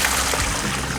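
Molasses solution poured into a potted grape plant's soil, a close, continuous splashing pour with no voices.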